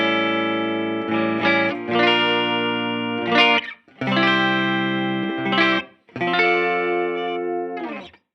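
Bridge humbucker of a Friedman Vintage-T electric guitar, brighter and with a driven edge, played as a series of strummed chords in several phrases separated by brief gaps, each ringing and sustaining, with no voices.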